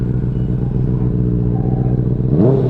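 A Benelli 600i or Triumph Street Triple superbike engine idling loudly up close with a rough, throbbing rumble, then blipped into a short rising rev near the end.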